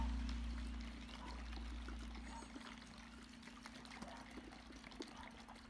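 Warm water pours into a container to dilute soap bubble gel, a steady faint trickling stream over a low hum.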